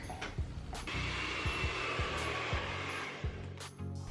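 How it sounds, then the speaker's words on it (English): A handheld blow dryer with a comb attachment blows steadily while pressing a wig part flat, a continuous close airflow hiss with a few faint clicks and taps from handling. "I'm gonna put this comb into my blow dry. and just"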